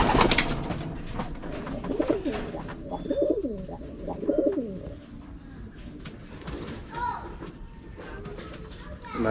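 Racing pigeons in a loft coo repeatedly in soft, rolling bursts, close by, with a voice talking intermittently among them.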